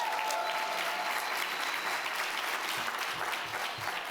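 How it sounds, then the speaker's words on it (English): A lecture hall audience gives a sustained round of applause for a distinguished guest speaker, dense, even clapping that stays steady and moderately loud for about four seconds. "Can we give her a round of applause, please?"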